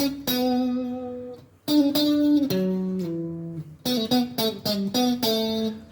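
Electric guitar plays a diatonic riff, a rhythmic run of sustained and quick notes in phrases, clean-toned and prominent, with no voices.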